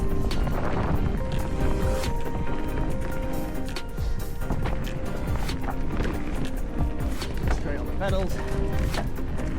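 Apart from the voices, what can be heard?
wind blowing while mountain biking in forest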